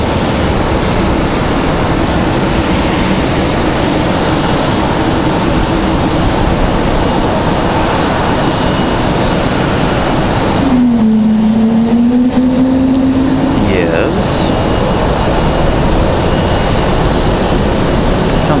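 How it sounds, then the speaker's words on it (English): A JetBlue Airbus A220 airliner takes off at an airport, a loud, continuous broadband engine roar with a rising whine partway through, heard from a distance outdoors. "Somebody getting ready to go for it here."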